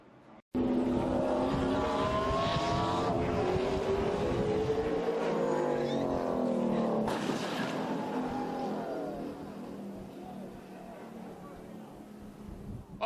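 A NASCAR stock car loses its back end, spins out and slams hard into the wall, engines roaring loud and continuous under excited race commentary, with a sharp crash partway through and the noise easing afterward.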